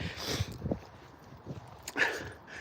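Dogs out on a group walk in a meadow, with a few soft barks and yips close by among rustling and handling noise, brief and scattered.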